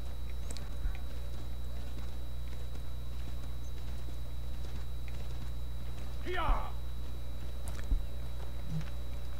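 A horse's hooves clip-clop steadily in Assassin's Creed 3, faint and even beneath a constant low ambient hum, with a brief chirp partway through.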